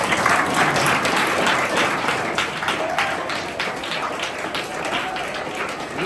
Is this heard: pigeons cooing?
no